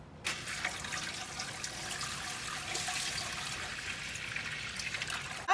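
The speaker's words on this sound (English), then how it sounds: "And I'm putting a lukewarm water in it, not ice cold water" Lukewarm water pours steadily into a home canner for canning peaches, a close, continuous splashing stream after a short silent start, ending with a sharp clunk.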